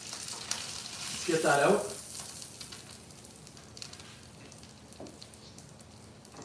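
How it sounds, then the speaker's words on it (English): Salmon sizzling and popping in a hot pan, with one loud burst of frying hiss and crackle early on, then a low steady sizzle and a single later pop, while a voice speaks briefly over it. "Salmon's popping"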